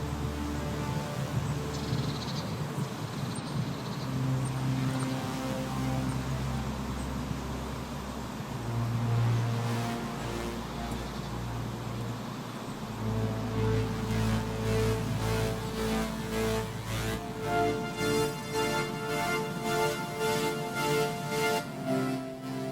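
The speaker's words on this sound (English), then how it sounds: "which is a simple pad, and this is provided by FM8, a frequency modulation synth from Native Instruments, and that sounds like this." A simple pad from Native Instruments FM8, a frequency modulation synth, playing sustained layered tones with a soft pulsing texture, steady and fairly loud throughout.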